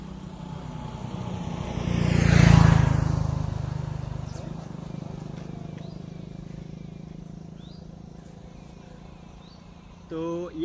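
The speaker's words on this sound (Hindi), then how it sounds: "एक और बाइक को निकलने देते हैं हम।" A motorbike passes along a road outdoors, its engine swelling to a loud, close peak and fading away over several seconds, with faint insects and birds in the background.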